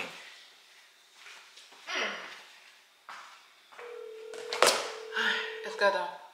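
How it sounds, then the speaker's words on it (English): A mobile phone rings indoors at home, a steady electronic tone sustained for about three seconds alongside a brief bright ping, with someone talking around it and household clatter. "my phone's ringing."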